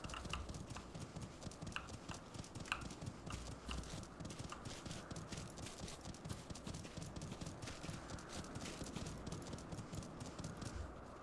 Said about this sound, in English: Look, Blue, it's your horsey. More of your horsies